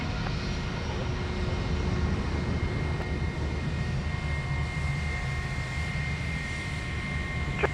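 A jet airliner takes off at night from runway 34 left at Sydney Airport, its engines a steady, loud, broad roar throughout with no talk over it.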